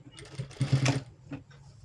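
A sewing machine stitching blouse fabric gives one short, close burst of rapid mechanical whirring and clatter in the middle, with quieter handling noise around it.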